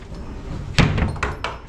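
A door in a milking robot room swings open with a sharp thunk followed by a few lighter knocks and rattles, close by and without talk.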